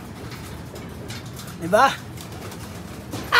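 Pigeons in a loft coo in short, low bursts close by, heard under a man's speech and steady background noise.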